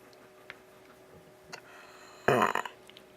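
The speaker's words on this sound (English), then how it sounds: "Nice burp" A child lets out one short, loud burp close by, rising abruptly from a quiet room with faint ticking clicks before it.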